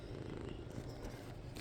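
A cat purrs steadily and close by in a room, a continuous low rumbling that runs through the whole short stretch without pause.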